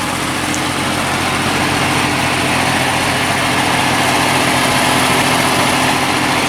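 A 1973 Ford Capri engine idles at a steady, rough rumble, loud and close, holding one unchanging rhythm throughout with no voices.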